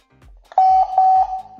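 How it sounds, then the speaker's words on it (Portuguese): Lenovo 360 5MP indoor camera sounding its reset beeps: two loud, clear electronic tones in quick succession, close by, with faint handling noises around them. "Ela faz um bibi bem alto aqui."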